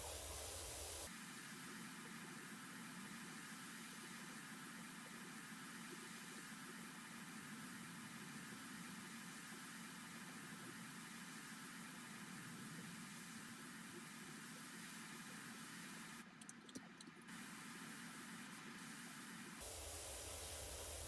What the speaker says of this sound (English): I'm just standing on the ground and spraying like straight up along the angle of the roof